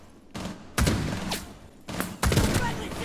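Video game gunfire crackles in two sharp bursts of rapid shots separated by a short pause, loud and close, with faint background sounds in between.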